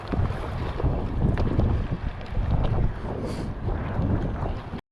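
Strong, gusty wind blows outdoors by a causeway in cold, rainy weather, buffeting the microphone with a loud, continuous low roar that rises and falls in waves before cutting off abruptly.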